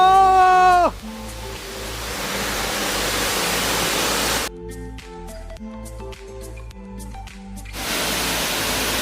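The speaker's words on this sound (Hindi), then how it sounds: "और ये आ गया वाटरफॉल।" Waterfall on a trekking trail in Kerala, a steady broadband rush of falling water heard close and loud, briefly interrupted by a short musical passage before the roar returns.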